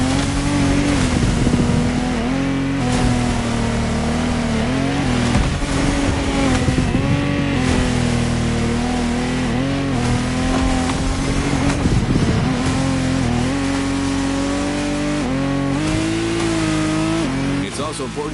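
Powerful offshore racing powerboat engines, including a Lamborghini Tecnomar, roar and rev with rising and falling pitch, loud and continuous, while a voice talks over the noise.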